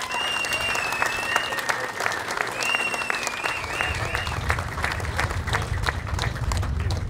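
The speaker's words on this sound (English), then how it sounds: "please give these guys a round of applause." Outdoor crowd applauds police officers at an annual 9/11 memorial motorcycle run, continuous clapping throughout with a whistle-like tone early on and low rumbling noise joining in the second half.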